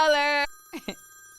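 A telephone rings for an incoming caller on a live morning call-in show, one short electronic ring tone, then a voice speaks briefly.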